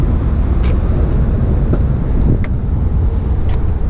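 A Subaru WRX is driven along, its engine and road noise forming a steady moderate rumble with wind buffeting, broken by a few faint clicks or ticks inside the cabin.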